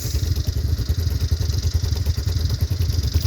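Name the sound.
Honda Big Red ATV engine idling after cold start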